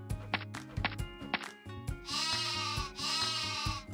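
Cartoon sheep bleat in two long, quavering cries after a few short hopping thumps, loud and close against a quiet night scene.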